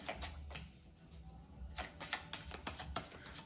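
Close, crisp riffling and flicking of cards in quick bursts, with a busier run of snaps toward the end; no one speaks.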